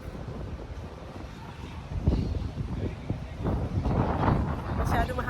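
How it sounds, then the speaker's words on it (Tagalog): Strong wind on a Barcelona rooftop buffets the microphone in gusty, rumbling bursts that swell louder midway, with muffled voices partly under it. "Masyado mahangin dito."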